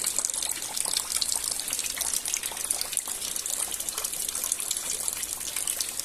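Rainwater pours steadily into a basin during a rain shower, a dense, continuous splashing gush that stays loud and even from start to finish with no voices.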